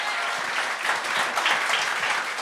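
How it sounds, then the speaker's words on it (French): A comedy show audience at Le Gong Show claps in a sustained burst of applause, a dense, even wash of many hands at steady loudness for a couple of seconds. "on peut l'applaudir"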